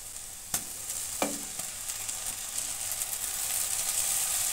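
Onion and garlic paste fries in oil for a silver carp and cauliflower curry, giving a continuous close sizzle that grows louder, with a few sharp scrapes and knocks of a spoon early on.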